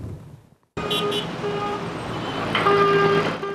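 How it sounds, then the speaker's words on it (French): Car horns honk aggressively in road traffic: several overlapping sustained horn blasts of different pitches sound over a dense traffic rumble, starting abruptly after a short quieter moment. "Coups de klaxon violents"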